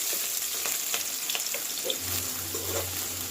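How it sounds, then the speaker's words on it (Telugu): Chopped onion and green chili fry in hot oil with a close, continuous crackling sizzle, punctuated by light taps and scrapes of a ladle stirring the pieces. "ఆయిల్ హీట్ అయ్యాక ఉల్లిపాయ పచ్చిమిరపకాయ ముక్కలు వేసుకున్నాము"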